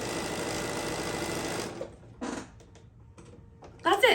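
Sewing machine running a backstitch along a seam, a steady loud whir for under two seconds, then stopping, followed by faint clicks, a short burst and a brief voice at the end.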